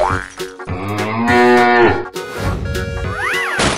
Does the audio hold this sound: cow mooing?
yes